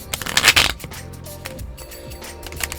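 A brief riffle of playing cards being shuffled, a quick crisp burst followed by softer light clicks and rustling.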